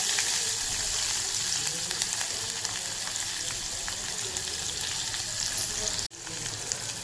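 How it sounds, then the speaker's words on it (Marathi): Sliced onion and slit green chillies with curry leaves fry in hot oil, a loud continuous crackling sizzle up close that cuts off sharply near the end before resuming, no voices. "तिथे तेल थोडंसं परतून घेऊया"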